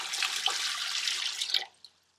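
Water running steadily from a kitchen tap into a pot while preparing home canning of ground beef, a continuous bright rush that stops abruptly, followed by a single drip.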